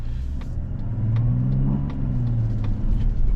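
A 2025 Mazda CX-70 Turbo SUV on the road, heard from inside: a steady low engine drone with rising tone as it accelerates, continuous road rumble and light ticking, no talking.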